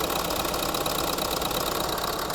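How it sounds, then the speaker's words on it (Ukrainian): A Renault Megane 4 engine idles steadily, a continuous dense rumble with an even drone and no pauses, close by and fairly loud. "Двигун запустився добре,"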